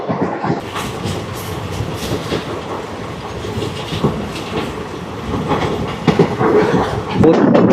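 The 17479 Puri Tirupati Express rolls along the track with a steady rumble and rhythmic clickety-clack of wheels over rail joints, heard from on board, swelling louder toward the end.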